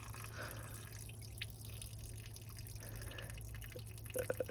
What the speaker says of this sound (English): It's draining out of the block now.